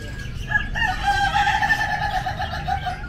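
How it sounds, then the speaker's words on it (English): A rooster crows loudly at an Indonesian animal market, one long drawn-out call close by over a low murmur of market background noise. "A chicken."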